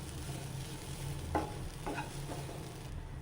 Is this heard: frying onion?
yes